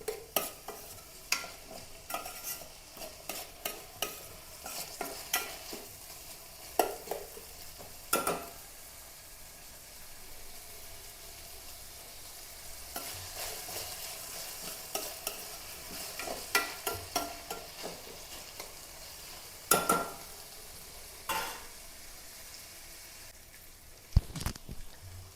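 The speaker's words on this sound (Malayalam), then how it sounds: "അപ്പോൾ നമ്മുടെ സവാളയും തക്കാളിയും ഇഞ്ചിയും വെളുത്തുള്ളിയൊക്കെ ഒന്ന് വാടിയിട്ടുണ്ട്." Onion, tomato, ginger and garlic stir-fried in a pan, with steady sizzling and repeated scraping clicks of a spoon against the pan throughout, close and moderately loud, no talking.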